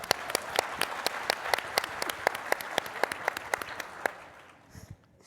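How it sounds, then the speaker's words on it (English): An audience applauds for a guest during an interview event with Governor Wes Moore. The clapping is steady and full, with sharp individual claps standing out, and it fades away over the last second. "you can give her a round of applause"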